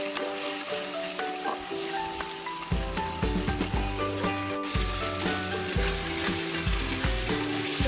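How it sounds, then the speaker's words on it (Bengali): Pointed gourd fries in a spice and yogurt masala, giving a continuous close sizzle and crackle with bursts of stirring, while faint steady tones run underneath. "ভেজে নিয়ে পটলগুলো দিয়ে দেবো। পটলগুলো দিয়ে ভালো করে কষিয়ে নেবো।"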